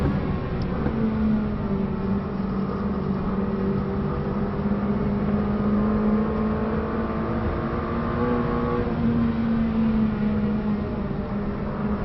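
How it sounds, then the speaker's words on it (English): A McLaren 600LT at high speed on the Nürburgring, its engine giving a steady, loud drone with a rising, siren-like whine that stretches across the whole stretch without a break. "The car develops this weird, almost siren-like sound at high speeds."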